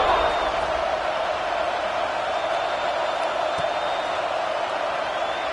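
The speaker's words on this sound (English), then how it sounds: "this crowd is buzzing after that last score" Stadium crowd in the Madden 26 American football video game hums in a broad, steady roar after a score, continuous and even with no distinct cheers standing out.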